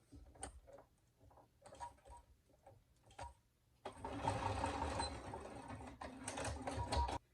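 A sewing machine bastes a folded D-ring connector strap for a mini wallet. Short bursts of stitching come first, then a steady, louder run of close mechanical whirring with rapid needle ticks.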